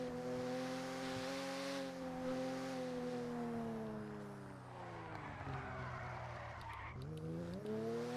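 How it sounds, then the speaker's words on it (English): A Jester car in the GTA video game revs with a droning, pitch-shifting engine note, dipping and rising again as gears change, with tire squeal mixed in, loud and continuous throughout. "I don't like the engine sound."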